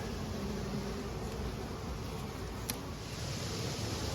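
Honey bees crawl over frames of a small swarm in a hive, a faint, continuous low hum and buzz with soft rustling and one brief sharp click.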